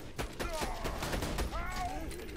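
Rapid gunfire from an automatic sniper rifle in Borderlands 2, shots crackling in quick succession over game sounds and electronic tones while someone talks over the action.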